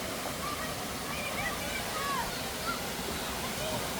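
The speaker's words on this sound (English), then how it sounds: "Oh, look at that, water splashes everywhere." Water splashes down the slides at a theme park, a continuous loud rushing and sloshing from nearby with faint voices mixed in.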